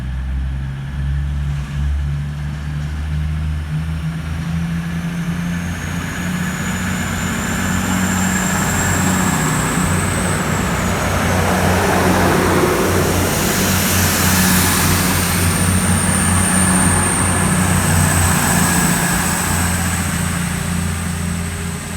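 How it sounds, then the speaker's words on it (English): A new-livery East Midlands Meridian diesel multiple unit at Market Harborough station, bound for Leicester, gives a steady low engine drone and rumble that swells slightly mid-way, with a faint high whine overhead, throughout with no talk. "This is a classic TTT Meridian, the new livery coloured Meridian, going to be leaving platform 1 going to Leicester"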